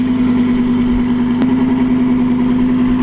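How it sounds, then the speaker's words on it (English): A steady, droning engine note from a 600-horsepower Lamborghini Huracan fitted with a Ryft exhaust, heard from the passenger seat as a constant low hum with no talking. "the sound of this Ryft exhaust is insane"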